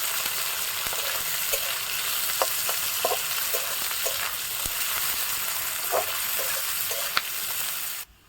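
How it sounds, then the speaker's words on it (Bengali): Chopped onions fry steadily in a pan for a jackfruit and prawn dish, a continuous broadband sizzle with occasional sharp clicks of a spatula stirring, loud and close, ending abruptly. "কুচিয়ে রাখা পেঁয়াজগুলো দিয়ে দিলাম। পেঁয়াজটা খুব লাল লাল করে ভাজবো।"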